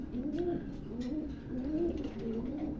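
A pair of Roman gull pigeons coo softly in repeated low, rolling calls, close by, with light rustling in the background.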